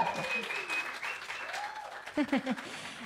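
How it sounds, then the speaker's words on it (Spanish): Faint applause from a church congregation during a live-streamed service, a soft wash of clapping mixed with a voice speaking over it. "dése un aplauso por todos los que están aquí"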